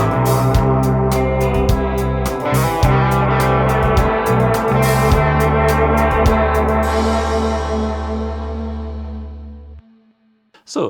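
Electric guitar part playing loudly within a full dense mix with drums, steady and busy before the music cuts off abruptly near the end.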